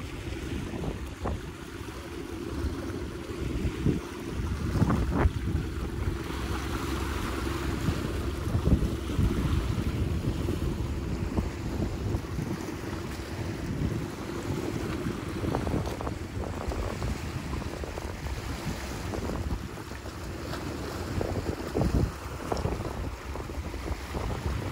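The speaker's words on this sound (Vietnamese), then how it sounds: "Đứng đây gió mát quá, yên tĩnh quá, nghe tiếng sóng vỗ nữa chứ" Sea waves lapping at the shore in Nha Trang, a steady broadband wash with soft irregular surges, mixed with wind buffeting the microphone and a low boat engine rumble, continuous and moderately loud with no talk.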